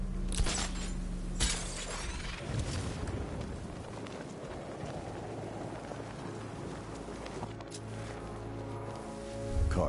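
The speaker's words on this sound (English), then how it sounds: "The Arkham Knight's vehicle swerved and crashed up ahead." A vehicle swerves and crashes in Batman: Arkham Knight: loud crunching, shattering impacts near the start, then a long stretch of rattling debris and rumble, with another burst of crashing near the end.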